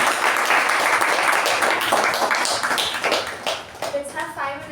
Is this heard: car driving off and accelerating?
no